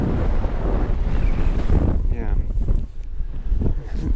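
Strong wind buffets a microphone on a hilltop near the Olsztyn Castle ruins in Poland, a loud continuous rush with gusts, while voices talk over it.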